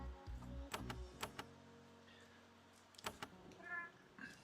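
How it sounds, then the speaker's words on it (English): Domestic cat meowing faintly a few times, quiet and intermittent, mixed with a few clicks and small household noises. "It's my cat."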